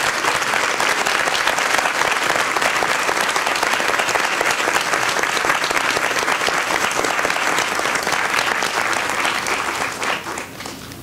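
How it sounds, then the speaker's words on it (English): Loud, sustained applause from a large crowd at a group satsang, steady clapping throughout that thins slightly toward the end. "Children, give a big applause for all the European babies."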